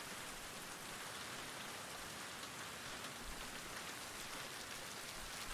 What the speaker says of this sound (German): Indem man nicht rausgeht, wenn es regnet.